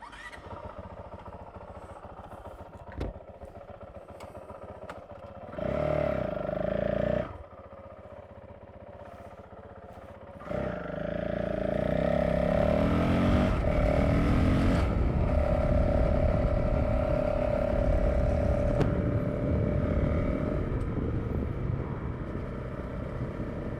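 An off-road trail motorcycle rides up a country road, its engine idling low before rising in two revving bursts and then holding a steady, loud drone as it pulls away, with no talk.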